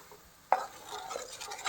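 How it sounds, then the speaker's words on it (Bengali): Milk powder stirred into melted sugar in a pan for apple sondesh, village style: a sharp utensil knock against the pan, then soft scraping stir strokes with faint sizzling, close and fairly quiet. "এটা এবার অল্প অল্প করে দিচ্ছি আর অল্প অল্প করে মেশাতে থাকছি।"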